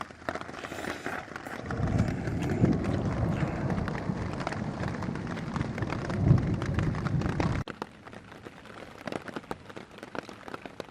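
Steady rain pours down in a dense, even hiss with low rumbling underneath in a Tennessee wilderness, then abruptly thins to a lighter patter for the final few seconds.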